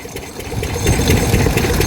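Engine pumping water for paddy fields in Punjab, a loud close rhythmic chugging with steady low thumps, building slightly and then holding steady, with no voices.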